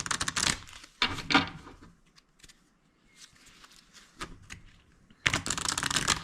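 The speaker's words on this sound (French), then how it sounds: "On va déjà mélanger les cartes." Tarot cards are shuffled by hand in soft, papery bursts of riffling and sliding, loud at first, quieter in the middle, then loud again at the end.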